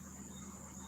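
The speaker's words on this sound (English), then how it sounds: "you're gonna hear the crickets chirping." Faint crickets chirp in a steady high trill at night in Gambia, a quiet continuous buzz alone with a low background hum.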